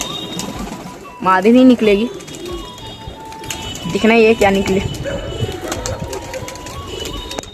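Pigeons coo in a rooftop loft full of young birds, two clear bursts of throaty cooing standing out near and loud, with someone talking over a steady background of shuffling and faint mechanical clatter.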